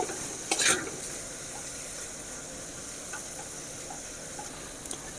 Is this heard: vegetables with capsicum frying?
yes